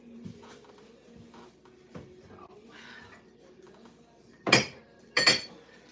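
Ceramic mugs clink sharply against one another as they are sorted on a kitchen shelf. Two bright, close knocks land near the end, after softer handling bumps and quiet shuffling.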